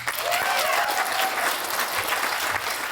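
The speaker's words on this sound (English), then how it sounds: "Give Mark a round of applause, everyone." Wedding guests at a reception break into loud, sustained applause that fills the room steadily, with a few faint voices and a brief whoop rising over the dense clapping.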